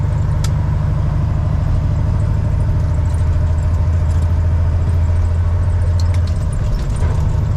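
A 2001 Western Star 4964EX truck's diesel engine drones loud and steady at close range, a constant low rumble carrying through the gear change from sixth high toward seventh low without the throttle easing.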